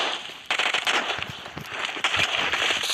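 Rapid gunfire in the video game PUBG Mobile, a dense crackling burst of shots running continuously for a few seconds with sharp louder cracks mixed in.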